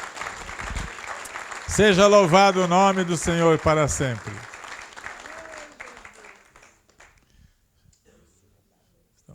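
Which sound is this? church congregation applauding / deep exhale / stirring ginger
church congregation applauding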